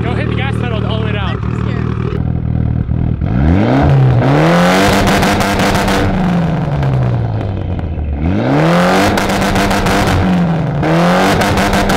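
A Mitsubishi Evo 8 with a 2-step tune revs hard under full throttle, its loud engine note climbing and falling in two big sweeps amid crackling exhaust, with people talking nearby early on.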